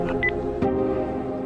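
Cartoon mobile phone dialing: a few quick electronic keypad beeps in succession, followed by a short click, with a low background hum and no talking.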